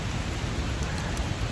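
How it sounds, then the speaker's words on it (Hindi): Heavy rain pours steadily on a mountain trail in the Parvati Valley near Tosh, a loud, dense, unbroken hiss close around the listener with no talk. "इतनी बारिश है, वैसे ही कोई नहीं आएगा।"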